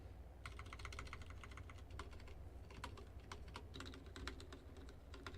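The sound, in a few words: typing on a budget office mechanical keyboard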